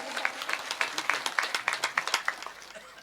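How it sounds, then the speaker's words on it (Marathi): Audience applause for the food donors who cooked about 70 kg of bhaji at a Sant Mirabai death-anniversary kirtan, a brisk run of many hands clapping with rhythmic peaks that fades slightly toward the end. "जोरात टाळ्या वाजवा बरं या अन्नदात्यासाठी"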